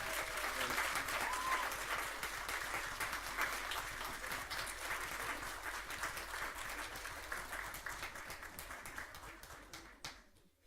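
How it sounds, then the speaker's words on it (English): Applause from the audience at a school board meeting honoring students of the month, sustained and fairly distant, gradually thinning out and fading to scattered claps at the end. "Let's give them a round of applause."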